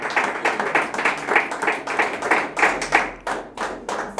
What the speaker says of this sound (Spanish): Dale ese aplauso a Jesús.